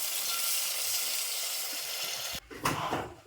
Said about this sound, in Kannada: ಈಗ ನೋಡ್ರಿ ಇದು ಹಸಿ ಮೆಣಸಿ ಖಾರ ಎಣ್ಣೆ ಒಳಗೆ ಈ ರೀತಿ ಫ್ರೈ ಆಗುತ್ತೆ ರೀ